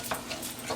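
A spoon stirs a flour, onion and garlic sauce in a pan, giving soft, quiet scraping strokes in a short repeating rhythm with a faint sizzle underneath.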